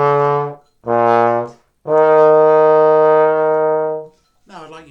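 Trombone plays the opening notes of a practice exercise: three sustained, clearly separated tones, the last held longest, sounding close and loud, followed by a brief trailing sound at the end.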